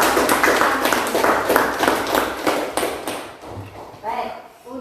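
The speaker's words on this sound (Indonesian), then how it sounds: "Kita kasih aplaus dulu untuk kelompok semuanya" A classroom of students claps for the discussion groups, with a dense burst of applause that fades out over a few seconds, followed by a teacher speaking.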